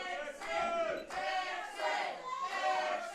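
A wrestling crowd cheering for the Big Texan, rising and falling in waves of loud, massed shouting and chanting from an arena audience.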